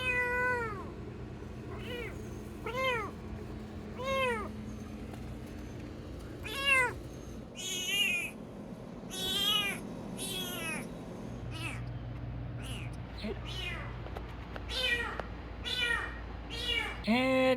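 A shop cat at a workshop meows repeatedly, a dozen or so rising and falling calls spaced a second or two apart, close and clear over a low steady room hum.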